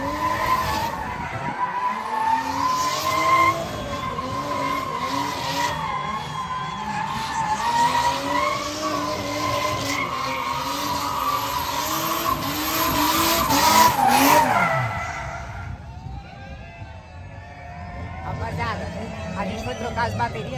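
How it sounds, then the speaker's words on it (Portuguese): A Nissan 350Z doing donuts, its tyres squealing and skidding in long sweeping screeches over revving engine noise and crowd chatter, loud and close, before the squeal fades and the scene quiets for the last few seconds. "ele deu zerinho em volta do pneu, ele deu borrachão, ele foi dando zerinho de novo"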